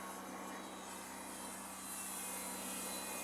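A fabric-covered, Pfalz-themed R/C Ugly Stik model airplane flies overhead with a crosswind, its engine giving a steady, faint, continuous drone throughout, with no talking.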